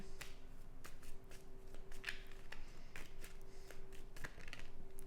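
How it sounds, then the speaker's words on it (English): Tarot cards being shuffled make a quiet, steady riffling with soft snaps and flicks, heard close and alone. "As I'm shuffling"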